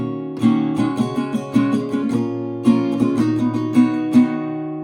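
Acoustic guitar plays the chord progression of a song once through, steady rhythmic strumming with accented strokes and ringing chords, close and clear with no talking.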